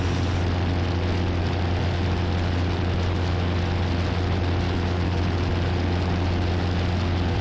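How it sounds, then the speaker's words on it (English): A Piper Warrior light aircraft's propeller engine drones steadily inside the cockpit as power is added on final approach, a loud, constant low hum with buzzing harmonics and no pauses. "A little bit below glide slope, so I'm gonna add a little bit of power here."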